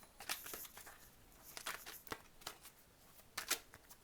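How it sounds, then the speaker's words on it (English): Tarot cards laid down one after another on a table, giving crisp snapping flicks and soft slides in an irregular rhythm, close and fairly quiet with no talking. "let me finish putting down the cards"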